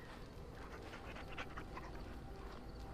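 A pet dog in the video game Dragon Age: Origins pants softly and steadily for a few seconds against a faint background wash, with no talking.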